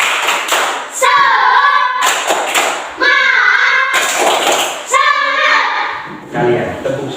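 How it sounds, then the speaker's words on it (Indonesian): A class of children performs a rhythmic cheer-clap routine, repeated clap bursts interleaved with loud chanting voices nearby. "Sekali lagi. Tepuk semangat."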